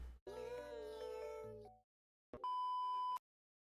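A cat gives a drawn-out, tonal meow lasting over a second, followed after a short silence by a steady electronic beep tone, both close and clear with no talking.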